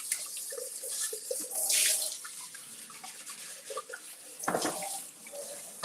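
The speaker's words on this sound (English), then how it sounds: "Let me rinse this off." Kitchen tap water runs into a sink while a dish is rinsed, a close, steady broadband splash with brief surges and clatter, no talking over it.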